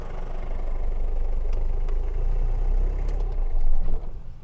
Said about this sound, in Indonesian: tadi teman-teman sudah dengar suara mesinnya kan